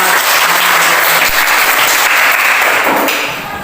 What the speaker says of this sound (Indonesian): Mari kita tepuk tangan kepada.